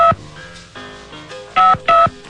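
A telephone number is dialed, giving a quick series of loud, distinct DTMF keypad tones in an uneven rhythm, each a short steady beep with brief gaps between.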